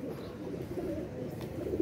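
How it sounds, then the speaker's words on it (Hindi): Netted pigeons give soft, low cooing calls, close and gentle, in a brief continuous stretch. "कबूतर जो है ना नीचे उतरे हुए हैं हमारे जाल वाले।"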